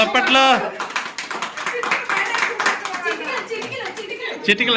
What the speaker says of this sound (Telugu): అందరూ కూడా సప్పట్లు కొట్టండి ఒకసారి గట్టిగా